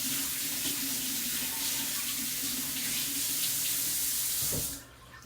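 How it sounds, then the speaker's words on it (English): Running tap water pours steadily for about five seconds while hands are washed under it at a sink in a home kitchen, a close, continuous splashing hiss that cuts off abruptly near the end. "just wash my hands again"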